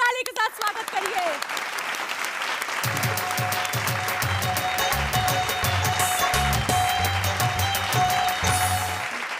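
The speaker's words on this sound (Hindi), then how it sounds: "जोरदार ताली के साथ स्वागत करिए।" An audience at a Hindi poetry show claps loudly to welcome a Faridabad poet onto the stage, dense sustained applause close by with rhythmic clapping, after brief talk.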